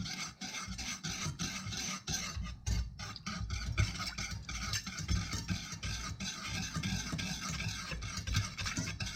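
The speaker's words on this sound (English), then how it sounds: "Now you go ahead and just start whisking that together." Close, continuous raspy scraping of a whisk stirring sweet and sour sauce thickened with cornstarch and water, with uneven strokes and no talking.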